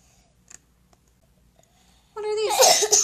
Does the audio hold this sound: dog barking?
no